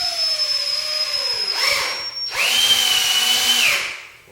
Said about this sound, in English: Run a few screws in.